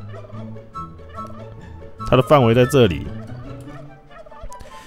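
A turkey gobble sound effect from the Roblox game Toilet Tower Defense, one loud warbling burst of about a second in the middle, with someone talking quietly before and after it.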